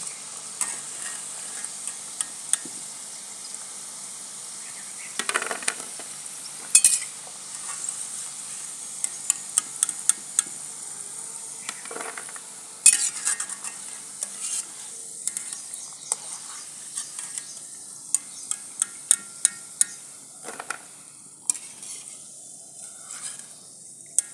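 Shakarpare deep-frying in a wok of oil, a continuous high sizzle broken by repeated scraping and clinking as they are stirred, close and with no talking.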